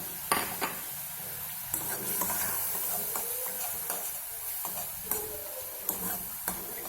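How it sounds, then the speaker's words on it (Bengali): A spoon stirring sugar into a red amaranth sour dish in a pot on the stove, soft scraping under a low simmering hiss, with sharp clinks of metal against the pot every second or so. "এখানে আমি অল্প চিনি রেখেছি, চিনিটা দিয়ে দেবো।"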